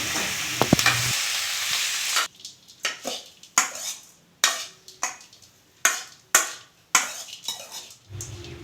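A coriander seed and leaf mixture roasting in a pan: a brief sizzle, then steady, rhythmic scraping strokes of a spoon stirring the dry mixture.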